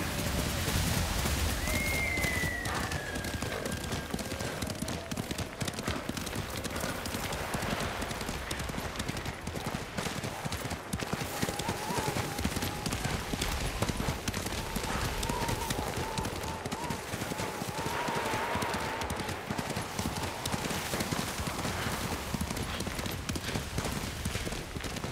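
Horses galloping in a video game, a continuous clip-clop of hooves running under a steady rain-like wash, with spoken dialogue over the top.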